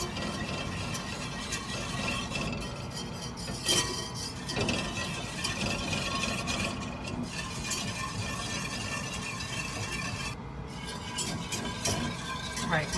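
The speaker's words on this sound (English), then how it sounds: "I'm gonna use my whisk. We're gonna whisk this around until it thickens up." A whisk works steadily through a cornstarch mixture for a fresh Ponchatoula strawberry pie filling as it thickens, a continuous scraping, clattering churn with occasional louder clinks against the pot.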